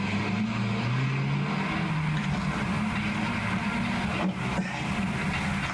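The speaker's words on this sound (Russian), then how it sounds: "сели в грузовик и покатились" A truck engine drones and pulls away, a steady low rumble with rising and falling tones as it gathers speed, heard close and loud with no talk.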